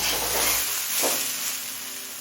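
Mixed winter vegetables fry in a pan with a loud, steady close sizzle and a brief scraping stir in the middle, with no talk.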